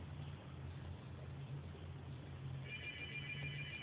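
A house telephone rings faintly in the background, the electronic ring entering near the end over a low steady hum, quiet and distant.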